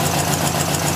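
A car engine fitted with twin SU HS6 carburetors idles steadily and loudly up close after a fuel mixture adjustment, a constant even hum with no talk over it.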